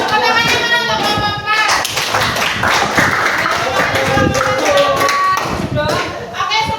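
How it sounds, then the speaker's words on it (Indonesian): A classroom of students applauds a student group, a dense burst of many hands clapping close by for several seconds, with voices chattering underneath. "Berikan tepuk tangan untuk kelompok 4."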